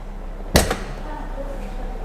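A 2023 Citroen Ami's conventional-hinged car door shuts with a single close, sharp thump, followed by a brief rattle and then quiet room tone.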